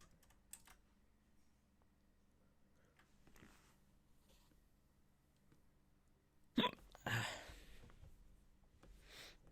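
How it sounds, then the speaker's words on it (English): A Twitch streamer hiccups twice in quick succession near the end, sharp and close, after a long quiet stretch with faint keyboard typing. "Damn it, hiccups."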